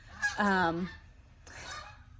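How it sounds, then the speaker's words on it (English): Geese honking as they fly over a house, a loud close call with a clear harmonic honk near the start, then a fainter, more distant honk about a second later. "there's geese flying right over my house."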